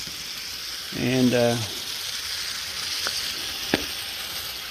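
Cabbage casserole sizzling and frying in a pan, a steady soft hiss throughout with a brief spoken word near the start and a couple of faint clicks later.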